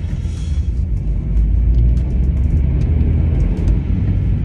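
A Peugeot 107 driving along gives a steady low rumble of engine and road noise from inside the cabin, with faint ticks and clicks scattered over the top.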